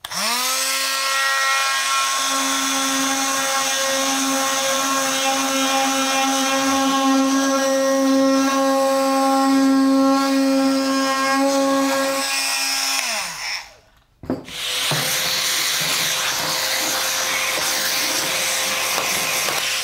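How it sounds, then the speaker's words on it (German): A loud, steady high-pitched buzzing of a Fein MultiTalent oscillating multi-tool with a delta sanding pad runs continuously without dust extraction, then winds down to a stop, leaving a quieter hum afterward. "Schleifen ohne Absauger ist einfach immer eine Sauerei."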